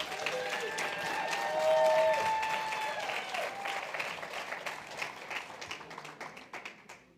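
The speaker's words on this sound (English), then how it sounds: "another big round of applause" Audience applause at an annual membership meeting, a steady wash of many hands clapping that swells early, then gradually thins and fades out, with some voices mixed in.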